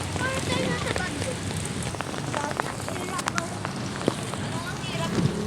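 Heavy rain pours steadily onto surfaces nearby, a dense continuous hiss with scattered sharper drops and splashes, loud and unbroken throughout.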